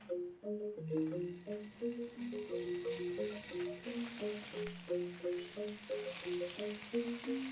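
Chicken fries in hot coconut oil, giving a steady, hissing sizzle that swells after the first second and runs beneath a melodic background tune.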